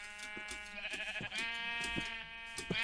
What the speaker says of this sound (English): Feed it to the sheep.